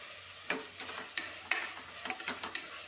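Vegetables stir-fried in a pan with ginger and garlic, a few sharp spatula scrapes and clinks over a faint, low sizzle, spaced irregularly and heard alone.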